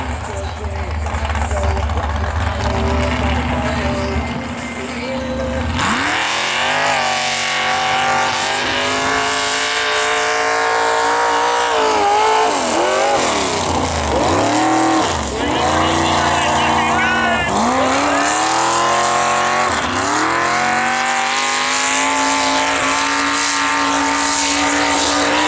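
Big vehicle engine roaring and revving at a tire pull event, loud and close with repeated surging throttle swells and drops as it works around a corner, an announcer talking over it.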